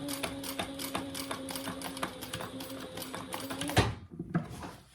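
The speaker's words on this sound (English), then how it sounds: "your top stitching, go slow" Sewing machine top stitching a bag runs steadily in a fast, rhythmic mechanical patter, close and fairly quiet, then stops abruptly near the end with a clunk and a little handling noise.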